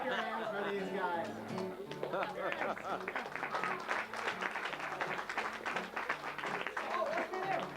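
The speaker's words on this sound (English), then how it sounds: "Clap your hands for these guys" Families at a 1995 December piano recital clap along after a Christmas song, with sharp claps mixed into crowd chatter and voices talking throughout.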